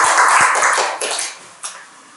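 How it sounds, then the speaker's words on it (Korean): A church congregation claps together to welcome two visiting women at a Sunday worship service, a dense burst of applause that fades and trails off into scattered claps. "우리 박수로 환영하겠습니다."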